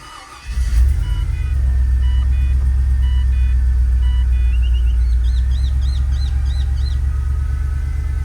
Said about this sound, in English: Alright, give her a start.